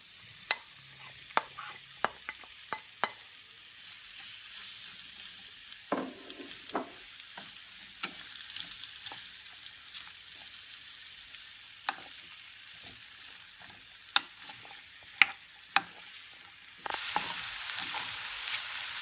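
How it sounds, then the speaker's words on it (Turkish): Chopped potatoes sizzle and crackle in hot vegetable oil in a pan, with scattered sharp taps and scrapes of stirring, then the frying surges louder near the end. "Doğradığımız patateslerimizi tavamıza alıp kızartalım."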